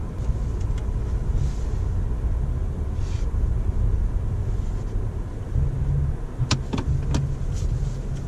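Interior of a 2019 Toyota Avalon on the move, a steady low road rumble and hum with a few faint clicks and ticks near the end, no talk.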